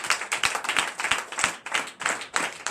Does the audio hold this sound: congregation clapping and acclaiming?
yes